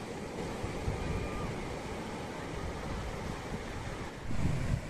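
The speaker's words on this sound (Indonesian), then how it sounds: "Deru ombak yang sangat santai dan aman" Gentle ocean waves wash ashore at Ritieng beach in Leupung, Aceh Besar, a steady soft surf roar mixed with breezy wind noise, swelling slightly near the end.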